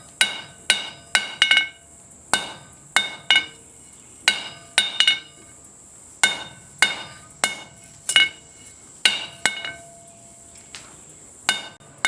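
Steel knife stock for a Higo no Kami style friction folder being hammered on an anvil to isolate the tang: sharp ringing metallic strikes, close and loud, in irregular groups of two or three with short pauses between.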